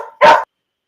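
A single sharp dog bark, loud and close, comes right after a brief soft whine, then silence follows.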